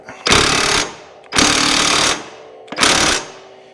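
An impact wrench tightens the axle bolt on a 1999 Harley Road King in three loud, close hammering bursts of about a second each, separated by short pauses; no voices.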